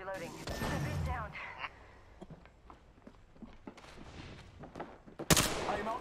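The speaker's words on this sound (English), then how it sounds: "Getting shot at. Firing. Reloading." Gunfire in the video game Apex Legends, with bursts of shots, footsteps and a sharp loud blast near the end, while a player talks over the action.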